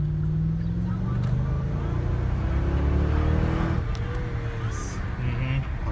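A 2015 Hyundai Genesis 5.0 pulls hard under acceleration, its steady engine drone and road roar filling the cabin from start to finish while people talk over it.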